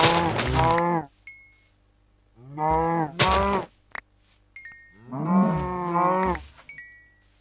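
Cows in Minecraft let out three loud, drawn-out moos close by, separated by quiet gaps, with faint clinks in between and no talk.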